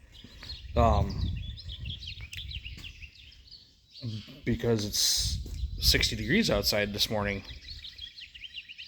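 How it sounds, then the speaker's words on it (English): Birds chirp outdoors on a mild spring morning, bright tweets running faintly behind someone talking close by. "I wasn't sure if you guys could hear the birds chirping out there this morning"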